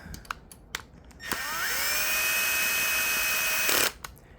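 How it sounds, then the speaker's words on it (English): A Milwaukee drill gun at its lowest torque setting driving bolts during LS engine work spins up in one steady whine of about two and a half seconds, then stops, close and loud, preceded by a few light clicks. "I'm using a Milwaukee gun and I have it on the lowest setting, the lowest torque setting"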